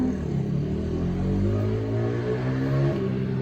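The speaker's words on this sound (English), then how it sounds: "do you really have to be riding your little fucking moped right now?" A moped engine passes outside, a droning mid-pitched motor hum with rising tones that holds steady and fairly loud for several seconds, with no talking over it.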